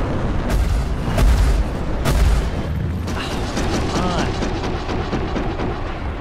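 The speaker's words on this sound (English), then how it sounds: "That's my wingmate shooting me." Spaceship weapons fire from a wingmate in Star Citizen, with 350r ships in combat: dense booming blasts and rapid shots layered over a steady roar of engines and combat noise, loud and continuous throughout.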